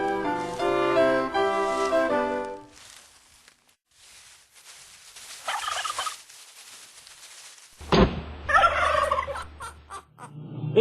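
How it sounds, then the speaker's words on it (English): Wild turkeys gobble in several separate bursts, with a loud rattling call at the start and more gobbles later, set against an outdoor background with occasional lower rumbles and no talking. "Extremely elusive fowl, those turkeys."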